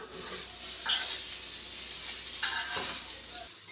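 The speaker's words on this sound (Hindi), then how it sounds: "3 शामियाँ हमने ऐसे फ्राई की हैं" Chicken shami kababs frying in ghee in a pan give a steady, close sizzle that runs throughout, with a few brief crackles and bubbling bursts rising over the constant frying hiss.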